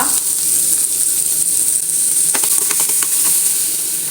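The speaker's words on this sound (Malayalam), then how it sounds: "പച്ചമുളക് ഇട്ട് കൊടുക്കുന്നുണ്ടല്ലോ കുറച്ച് വെളുത്തുള്ളി ഇട്ട് കൊടുക്കുന്നുണ്ട് അത് നല്ലവണ്ണം ഒന്ന് വാട്ടിയെടുക്കാം" Green chilies and garlic sauté in a hot pan with a steady, loud sizzle and a few stirring scrapes near the end; no one speaks.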